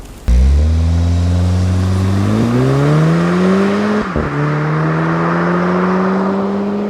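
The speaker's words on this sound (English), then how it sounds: "the best way to tell this apart from a run-of-the-mill GTI is by those 4 exhausts poking out the back. And they're pretty loud." A 2015 Volkswagen Golf R hot hatch with a quad-tip exhaust starts up and revs, its engine note climbing steadily in pitch for several seconds, with a brief dip on a gear change before rising again, loud and close with no talking.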